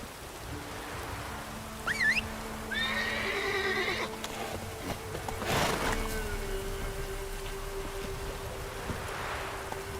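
Geralt's horse Roach in The Witcher 3 whinnies, with hoofbeats clip-clopping and rustling foliage in a light outdoor ambience. Against the ambience, a loud hoof strike or thump cuts through clearly, all fairly close.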